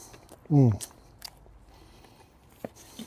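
A bite into a fajita chicken taco with a fresh-made tortilla and crunchy meat gives a short, loud crunch near the mic, followed by quiet chewing sounds.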